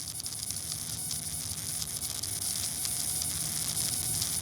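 Steady hissing, crackling static from a broken phone camera with a shattered lens as the camera opens, a constant close buzz with no pauses or voices.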